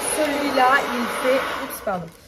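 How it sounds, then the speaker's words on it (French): A 2300-watt hair dryer runs with a steady, loud airy whoosh for the whole stretch while a person talks over it. "il faut un sèche-cheveux"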